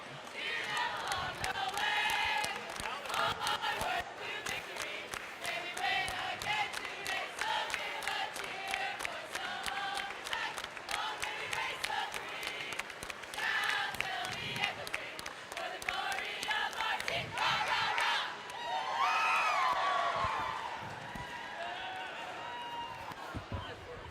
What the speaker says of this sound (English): She gets a round of applause.